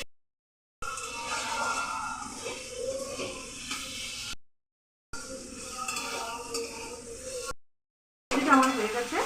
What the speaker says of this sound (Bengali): সবজিটা ভালো করে টমেটোর সাথে ভালো করে মিশিয়ে রান্না হয়ে যায় সেভাবে ভাজতে হবে।